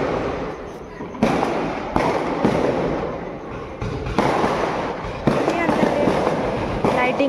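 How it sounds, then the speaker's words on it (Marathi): Diwali firecrackers and fireworks bursting outdoors during a home celebration, a run of sharp loud bangs and crackling rattles following one another every second or so, with voices talking underneath. "फटाके फुटायला सुरू झाले."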